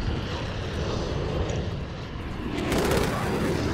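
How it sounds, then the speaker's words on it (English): A VTOL jet roaring overhead in a first-person shooter video game, a loud continuous engine rush that swells toward the end, with no talking. "The VTOL jet."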